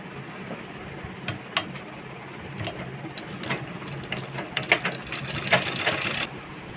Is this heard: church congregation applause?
no